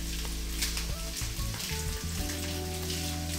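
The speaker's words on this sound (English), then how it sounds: "Try to get each of the rings separated so it cooks evenly." Sliced onion rings frying in a pan sizzle steadily, with a few soft stirring knocks partway through; close and continuous, with no talking.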